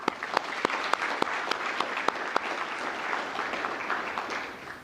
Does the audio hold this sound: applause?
yes